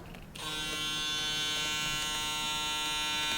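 An Andis Recon Series hair clipper switches on after a brief pause and runs with a steady, close, even electric buzz that holds without change.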